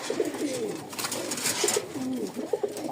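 Domestic pigeons of the Lotan and Porter breeds coo in repeated low, throaty phrases at close range, overlapping in a steady chorus with some wing rustling and no talking.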